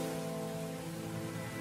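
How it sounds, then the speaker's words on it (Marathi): Rain patters on a surface as a steady hiss layered with a low tonal hum, brief and moderately quiet, with no speech. "पाऊस कमी झालाय"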